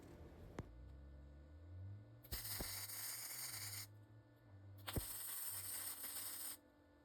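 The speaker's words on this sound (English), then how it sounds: "between welds, I'm just taking a grinder to it again to clean off any of the slag and debris that's built up" An angle grinder cleans slag and debris off flux core welds on a string trimmer rack for a Karavan trailer, two sustained harsh grinding bursts of a couple seconds each, with a low hum between them.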